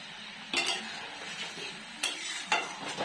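Manchurian balls go into a hot pan and are stirred, giving a soft background sizzle broken by three sharp scraping clinks of a spoon against the pan.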